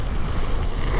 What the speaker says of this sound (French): Ah, il y a trop de vent.